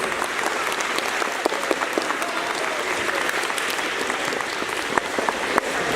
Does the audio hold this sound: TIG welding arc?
no